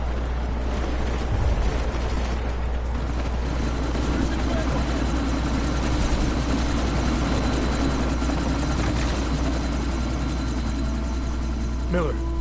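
Helicopter rotor and engine drone from the video game Deus Ex: Mankind Divided, a steady loud low throb running throughout under game dialogue and effects.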